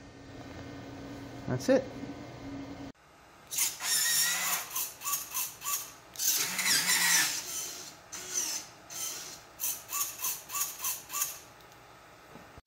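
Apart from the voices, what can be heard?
hobby servo gadget moving back and forth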